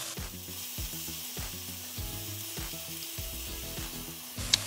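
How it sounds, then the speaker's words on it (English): Steak sizzling and frying in a hot wok, with steady crackle and a few stirring scrapes, loud and close throughout with no talking. "just go ahead and cook the meat in a separate pan."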